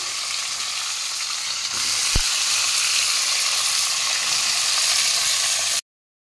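Vegetables go one by one into hot oil tempered with five-spice, and a steady loud sizzle fills the space, swelling as they land, with one brief clack near the start.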